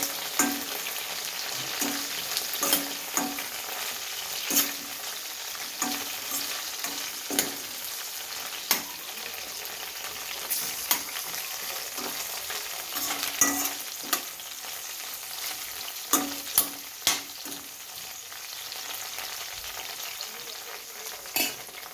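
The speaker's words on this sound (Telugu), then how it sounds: "నూనెలో ఇట్లా ఎగిరింది, నీళ్ళలో కడిగేసిన కదా మిరపకాయలు ఇట్లా ఎగిరింది" Washed green chillies frying in hot oil, sputtering and crackling steadily with sharp pops scattered throughout, close and fairly loud with no talk.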